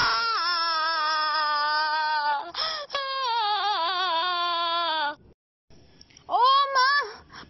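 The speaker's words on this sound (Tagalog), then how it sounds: "Tumangis ng malakas ang dalaga." A young woman weeps loudly in a school radio drama, with long drawn-out wailing cries in a few strong bursts separated by brief silences.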